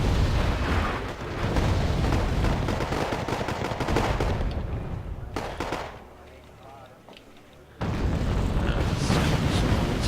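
Artillery barrages and gunfire rumble in the Wargame AirLand Battle video game, a dense, loud stream of booms and shots that thins to a quieter lull before the bombardment surges back.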